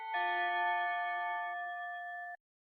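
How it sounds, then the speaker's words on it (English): A school bell chime from the video game Love or Die rings out as one clear, sustained electronic tone of stacked bell-like pitches. It holds steady and then cuts off abruptly into silence, with no talking. "Can't skip the school bell though."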